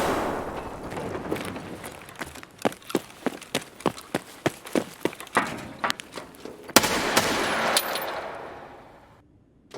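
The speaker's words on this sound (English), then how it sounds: "Get down! Grenade!" A frag grenade goes off in Escape from Tarkov after a quick series of sharp gunshots, the blast landing as a loud burst that trails off into a fading rumble.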